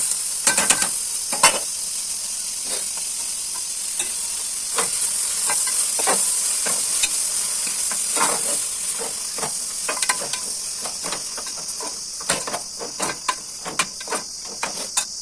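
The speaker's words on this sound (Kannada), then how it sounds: "ಈಗ ಸೊಪ್ಪನ್ನ ಹಾಕಿ ಮಿಕ್ಸ್ ಮಾಡೋದು" Greens tossed and stirred in a hot pan with tamarind and lemon, a steady close sizzle and hiss under repeated scraping strokes and light clatters throughout, with no talking.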